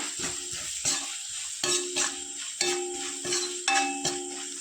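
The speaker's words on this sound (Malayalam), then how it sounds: "ഇനി നന്നായി ഇളക്കി യോജിപ്പിക്കുക" A mango pickle spice mix is stirred in a pan, the spoon scraping in repeated strokes about every second, with a steady frying sizzle underneath, close and alone.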